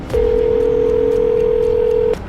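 A steady electronic phone tone holds at one pitch for about two seconds, then cuts off abruptly; no voices.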